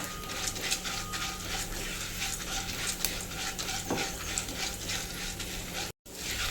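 Urad dal frying lightly in a pan for a tomato chutney, a steady close crackle of sizzling oil with scraping stir sounds, a brief dropout near the end.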